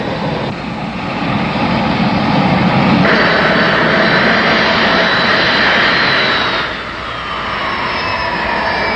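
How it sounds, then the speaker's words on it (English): Four jet engines of a Boeing 747-100 run up together at equal throttle, a loud, steady roar with a broad hiss that swells midway and then eases back slightly, continuous and close throughout. "Then run up and trimmed, equalized thrust from all four engines at identical throttle settings."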